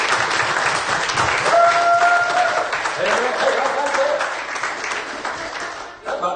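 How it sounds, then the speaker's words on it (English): Church congregation clapping in praise during a service, a dense burst of applause with a few held keyboard notes and voices mixed in, fading near the end. "why don't you give Him a clap offering of praise?"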